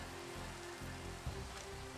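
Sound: rain in Minecraft video game

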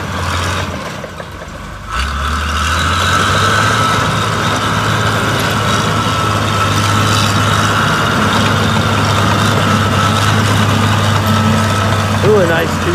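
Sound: 1993 Case 855E crawler loader engine running

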